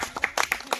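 Children clap their hands in a short burst of sharp, uneven claps at an outdoor feast with tuition kids, close by and without speech.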